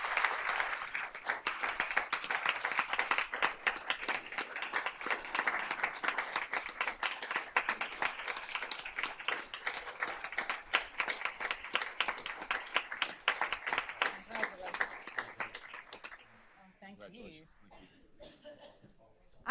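A board meeting audience applauds a coach with sustained clapping that goes on for about sixteen seconds before fading out, followed by quiet room sounds.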